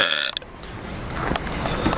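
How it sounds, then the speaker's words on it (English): A person burping while out on the road: one rough, drawn-out belch over faint background noise, with no talking. "Burping on the road."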